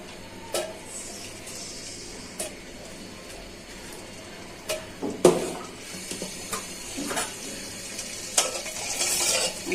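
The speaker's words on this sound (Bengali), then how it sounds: "এলাচি দারচিনি গুলো তেলের মধ্যে দিয়ে দিচ্ছি" Cardamom and cinnamon dropped into hot oil in a pan, giving a soft sizzle with scattered clinks and scrapes of a spoon against the pot, fairly quiet with a steady low hum beneath.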